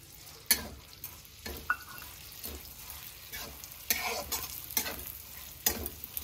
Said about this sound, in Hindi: इसको साथ साथ चलाते रहेंगे इसमें घी ज़्यादा डलेगा तो ये फूलेगा अभी